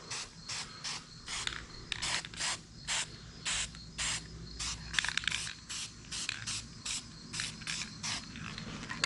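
Spray paint goes on in a steady series of short, hissing bursts, about two per second, as a coat is applied to a Honda EK/CR-V engine lift mount. The sound is close and even, with no voices.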